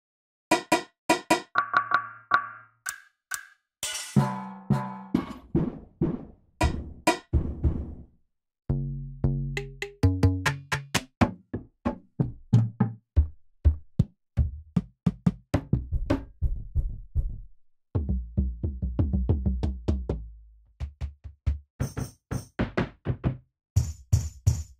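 Stomp samples from the Big Fish Audio SMACK percussion library, a long sequence of heavy, thudding hits with deep low-end weight, some dry and some ringing, played in varied rhythmic groups.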